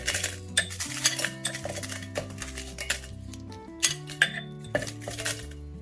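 Ingredients such as tamarind, sugar and vinegar for a Goan recheado masala go into a mixer jar, with repeated close clinks and knocks of metal and glass. Steady tonal music plays underneath.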